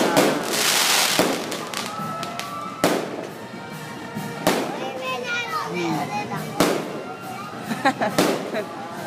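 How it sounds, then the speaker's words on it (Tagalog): Fireworks and firecrackers bursting at a town fiesta in San Rafael, Pampanga, with repeated sharp bangs spread across the stretch over a steady crackle, while children play and talk nearby. "Ayaw mo sa fireworks."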